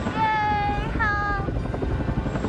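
Two helicopters circle overhead while searching near a reservoir amid heavy smoke and flames, a steady rotor drone running under a loud rising and falling whine, with voices in the background.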